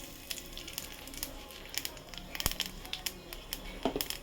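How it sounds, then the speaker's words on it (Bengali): Nigella seeds crackle and sizzle faintly in hot oil left from frying fish, small irregular pops scattered over a soft steady hiss, with no talking. "এবার এই তেলেই আমি কালি জিরা ফোড়ন দেবো"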